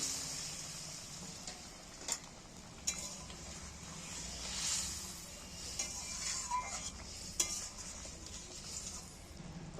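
A spoon scrapes and stirs fried potatoes into a simmering spice mix in a pan for aloo dum, with occasional light clinks of metal against the pot over a faint sizzle.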